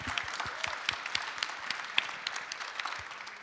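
A live audience applauds a guest comedian and animated-series actor at an Act To Change event, with brisk, scattered clapping that is fairly close and steady for a few seconds and no talk over it.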